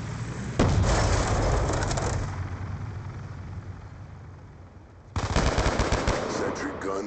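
Video game combat: a burst of rapid gunfire, then a long rumbling grenade blast that fades before another loud volley of shots erupts near the end.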